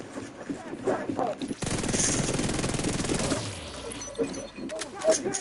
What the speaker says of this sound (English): Who the hell is shooting at me?